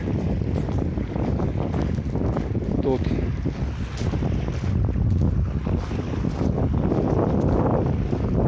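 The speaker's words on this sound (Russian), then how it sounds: "Шум прибоя." Steady roar of small-wave sea surf on the Yeysk estuary embankment, mixed with strong wind buffeting the microphone; a voice speaks briefly.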